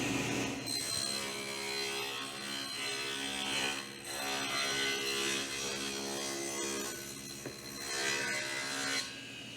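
A table saw blade set about a quarter inch high cuts a dado in wood for a shadowbox frame. The steady, loud whine and rasp of the blade in the wood runs through the whole stretch, swelling at times, with no talk.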